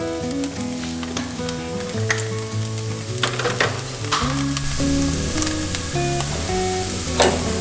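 Paneer tikka sprinkled with garam masala fries in a pan for paneer tacos, giving a close, continuous sizzle with occasional spatula scrapes over a steady tonal background and no voices.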